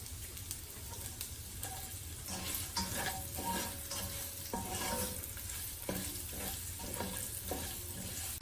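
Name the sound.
carrots frying in a pan for veg rice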